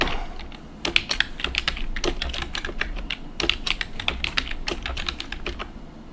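Someone types a new password on a computer keyboard while troubleshooting a Linux login: a close, quick run of crisp key clicks in uneven bursts over a faint room hum.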